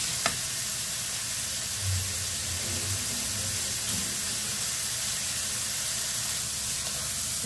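Spaghetti sauce seasoned with sweet soy sauce being stirred in a pan, a steady loud sizzle and hiss with faint scraping throughout, no talking.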